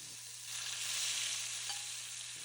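Hilsa fish pieces fry in a pan of oil with a steady, close broadband sizzle that swells slightly and stays even throughout, alone without any talk.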